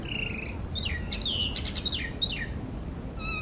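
An ashy drongo calls in a Bangkok park, giving a series of sharp, clear whistles and downslurred chirps at close range over low urban background hum.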